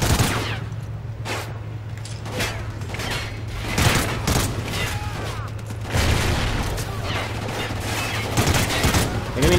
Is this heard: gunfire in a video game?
yes